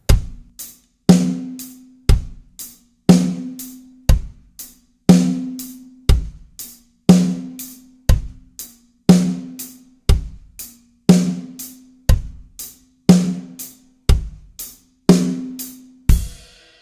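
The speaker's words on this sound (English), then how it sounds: "you're going to be hitting the hi-hat on all of the upbeats of eighth notes" Lone hi-hat strokes land on the offbeat eighth notes of a drum lesson groove, with a steady, even pulse of crisp closed hits and no voice over them.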